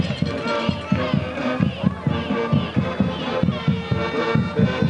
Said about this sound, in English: There's the London cheering section.